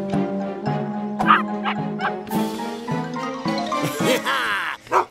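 Cartoon dogs in a race bark in a quick run of short, bright woofs and yips, about two each second, mixed with a light jingling chime and a whimper near the end.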